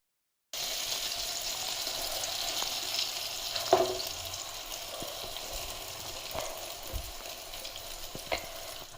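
A large egg omelette fries on a small tava griddle, giving a steady, soft sizzle with a few faint clicks and taps, no talking.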